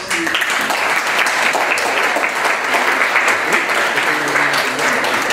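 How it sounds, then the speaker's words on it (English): An audience at an educational forum in an Elks lodge gives sustained applause, a dense, loud, even roar of many hands clapping with faint voices mixed in. "Can we give everybody a round of applause as folks?"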